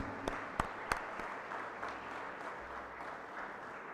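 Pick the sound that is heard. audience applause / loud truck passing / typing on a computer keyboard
audience applause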